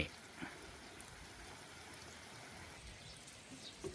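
Heavy rain falling steadily outdoors in the countryside, a soft continuous wash of drops with occasional louder patters, fairly faint and distant, no voices.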